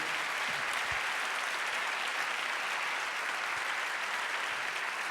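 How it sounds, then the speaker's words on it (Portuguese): Church congregation applauds as people step down from the front during a service, a steady wash of many hands clapping at moderate, somewhat distant level. "vamos aplaudi-los enquanto eles descem, irmãos, por favor"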